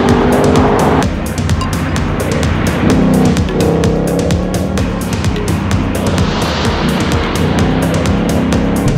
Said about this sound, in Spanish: Esas sensaciones de un V8 de 5 litros, bloque y culata en aluminio, 450 caballos de potencia